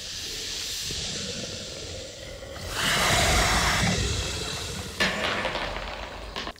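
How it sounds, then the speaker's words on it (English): A giant snake hisses in a Harry Potter and the Chamber of Secrets film scene, a loud broadband rasp that swells midway and breaks into sharper bursts near the end over rumbling score. "that is a big fucking snake"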